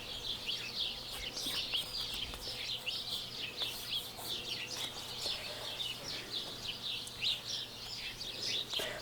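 Birds in a backyard chirp and twitter continuously, a busy chorus of overlapping calls at a moderate distance over a quiet outdoor background.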